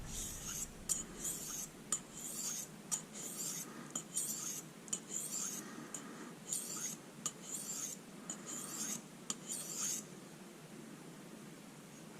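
A pocket EDC knife blade scraped back and forth across the 1000 grit side of a whetstone, steady rhythmic rasping strokes, close and fairly quiet, continuing alone without talk.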